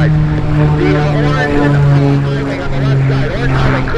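A light RV-type propeller aircraft taking off at a busy airshow makes a loud, close engine drone with a wavering pitch that swells and eases.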